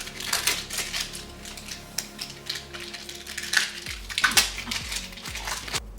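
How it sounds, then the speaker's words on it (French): Hard-to-open packaging for a glitter makeup product is pried apart up close. It gives off continuous crackling, rustling and scratchy handling noise, broken by sharp clicks and knocks as the packaging gives way. "Alors on va l'ouvrir parce que là aussi il faut que je fourre mes doigts à l'intérieur"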